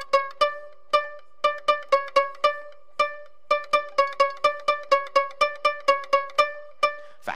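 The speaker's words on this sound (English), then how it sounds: "So shall I make some spiky music?" Short, sharp plucked or struck pitched notes form spiky music for a toddler music session, with a rapid staccato pattern of separate stabs over about seven seconds, close and clear with no voices.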